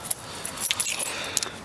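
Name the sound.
car keys jangling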